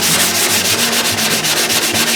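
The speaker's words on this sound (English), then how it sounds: "I'll sand all the spots where the grain is raised" Raised wood grain on a wooden instrument soundboard being hand sanded, a loud steady scratchy rubbing in quick back-and-forth strokes, close up and continuous with no pauses or voices.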